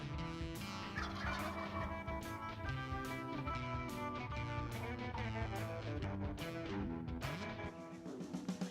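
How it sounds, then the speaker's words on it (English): Wild turkey gobblers sounding off repeatedly in the woods, a dozen or so sharp rattling gobbles in irregular succession, fairly close and clear. "we heard a couple gobblers just lighting up"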